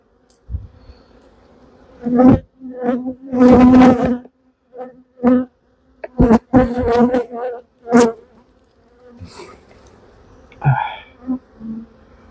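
Honey bees buzz around an open hive during a swarm inspection, with loud close buzzing bursts passing near and fading off between quieter gaps.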